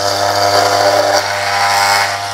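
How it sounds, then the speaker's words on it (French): An electric hair clipper, one that is not very powerful, buzzes steadily and loudly up close while shaving a head bald, a constant droning hum with no pauses. "j'ai une tondeuse qui est pas forcément super efficace"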